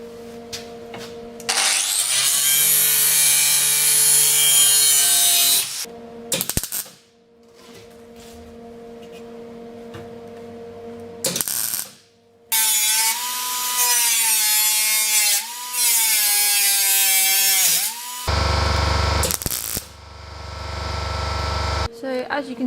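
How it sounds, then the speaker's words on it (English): An angle grinder with a flat or cutting disc works the metal of a Golf Mk2 wheel arch in loud, close bursts of harsh grinding and scraping, separated by pauses and quieter motor hum. "I'll just use a flat disc or a cutting disc just to try and open it up a little bit"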